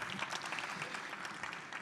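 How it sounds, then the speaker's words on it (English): Audience applause at a panel session on turning waste into wealth, a steady moderate patter of clapping from a seated crowd, fairly faint and continuous throughout. "Give a round of applause, please."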